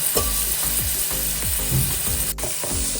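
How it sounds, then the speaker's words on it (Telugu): Garlic, onions and green chillies fry in hot oil with a bright, steady sizzle, broken by repeated rhythmic scraping and clanking strokes of a spatula against the pan. "ఆయిల్ కాగానే మనం రెడీ చేసిన వెల్లుల్లి, 2 ఆనియన్స్ వేసుకోవాలి"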